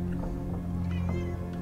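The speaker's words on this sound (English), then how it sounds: "My cat is being very insistent" A pet cat meows insistently for attention in a room during game play, its short cries faint and thin beneath a steady background hum of game audio.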